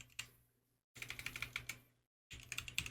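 Keys tapped on a computer keyboard to enter a 4-digit PIN for a crypto wallet. Two quick bursts of crisp keystrokes are separated by a short pause, close and fairly quiet, with no talking.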